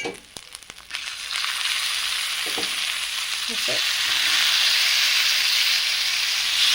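Silver carp pieces go one by one into a pan of oil with fried ginger, raising a loud, continuous sizzle that swells after a few soft knocks and stirring sounds, with no voices.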